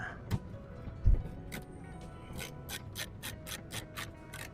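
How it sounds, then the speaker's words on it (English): A ratchet with a 10mm socket working bolts during an oil change on a 2020 Toyota Camry 4-cylinder, a few knocks and then a quick series of regular clicking ratchet strokes, faint and close. "Grab our 10mm socket."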